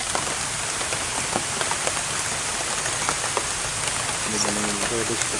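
Rain pours steadily outdoors beside a collapsed house, a continuous hiss with scattered drop taps, and a brief muffled voice-like murmur near the end.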